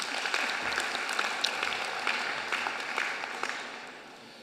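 Sustained applause from a large audience at a university graduation ceremony in Sydney, a dense, even wash of many hands clapping that holds steady for several seconds and then slowly fades toward the end.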